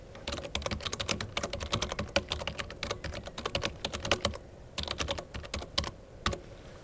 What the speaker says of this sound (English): when you're finished typing in the information into your note